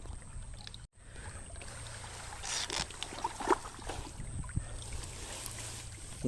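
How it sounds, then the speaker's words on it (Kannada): Water runs steadily through a small channel by a farm field, a continuous soft gurgling rush with scattered splashes, close by and heard alone. "ಅಷ್ಟು ಹೋಯ್ತೈತೆ ನೀರು ಇವಾಗ."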